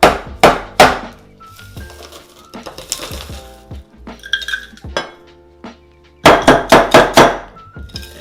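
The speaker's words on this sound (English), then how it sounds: "Now, we add our ice." Ice cubes clatter into a metal or glass vessel holding gin, simple syrup and mint, making sharp clinks in quick clusters at the start and again near the end, with quieter handling between.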